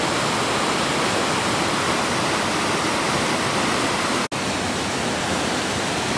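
Little Qualicum River Falls, a loud and steady broadband roar of falling water heard up close with no talking, broken by one brief dropout near the end.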